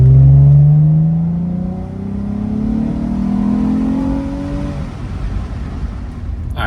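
A Lexus IS300 in sport mode, fitted with a WindBooster throttle controller, accelerates hard, its engine note climbing steadily through a gear before easing into a steadier drone, loud and close from inside the car.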